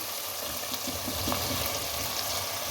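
Boiled mutton liver sizzles quietly in a pan of masala, making a steady soft frying hiss with faint crackles throughout and no voices.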